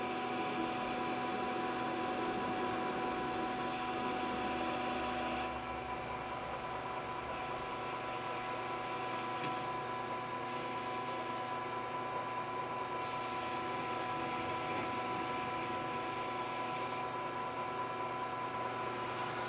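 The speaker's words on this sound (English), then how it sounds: "we're going to take off 50 thousandths pass at a pretty high feed rate, 14 thousandths a revolution." A metal-cutting machine taking a 50-thousandths pass on metal at a 14-thousandths-per-revolution feed, heard as a steady, even mechanical hum with a constant tone throughout.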